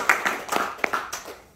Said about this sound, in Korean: 우리 모두를 해서 박수 한번 치자.